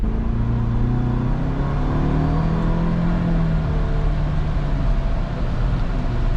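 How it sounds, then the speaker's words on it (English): A 2022 Ford Bronco Black Diamond with the 4-cylinder engine accelerating on the highway, heard from inside as a steady engine drone whose pitch climbs gradually through the gears over road noise. "this Ford Bronco with the 4-cylinder definitely takes a little bit of time to get to around like 50 or 60 miles an hour"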